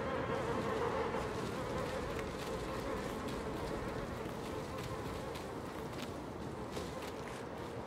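Buzzing bees in the video game Little Nightmares 2, a faint continuous insect drone with light scattered footstep-like taps over it.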